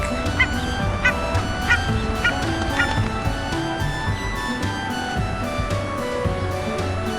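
A duck calls in a run of loud, nasal honking quacks that repeat steadily about every half second, near and clear, then thin out toward the end.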